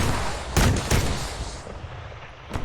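Tanks fire at target tanks 200 meters away during target practice, two heavy blasts close together then a third after a pause, each leaving a low rumbling tail, loud and near with no talk.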